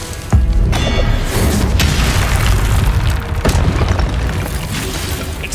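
A Confringo blasting spell in Hogwarts Legacy bursts into a loud, booming explosion right after a sharp onset, then rumbles on heavily through the rest, with a few later crackling impacts.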